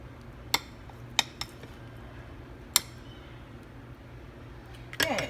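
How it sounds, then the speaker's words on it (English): A spoon scraping and clinking against a baking dish while spreading the pumpkin topping of a Jamaican pumpkin bread pudding made with Guinness, milk and cinnamon: a few sharp isolated clinks spaced apart over a quiet background, with a rustle at the end. "Let me use a spoon to spread it out better."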